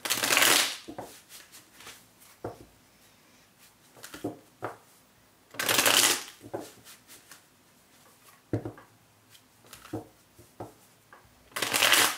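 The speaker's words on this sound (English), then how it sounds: "couple more shuffles here" Tarot cards being shuffled in repeated bursts, riffle sounds close by with quieter taps and handling noises between each shuffle.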